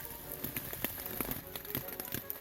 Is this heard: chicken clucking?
no